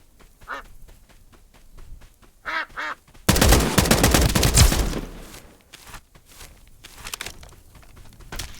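Ducks quacking in short bursts amid the Escape from Duckov game, followed by a loud sustained spray of gunfire for about two seconds, then scattered shots and quacks trailing off.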